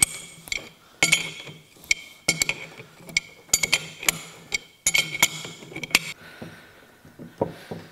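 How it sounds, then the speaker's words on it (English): Metal clinks and ratcheting taps from a Crescent wrench tightening the compound on a LeBlond lathe in a shop, a string of sharp close knocks coming in irregular bursts over several seconds. "I'm going to go ahead and tighten that up. Crescent wrench on that."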